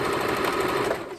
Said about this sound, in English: So I'm letting the foot pull it, get to the end, a couple back stitches, a couple forward stitches, and I'm done.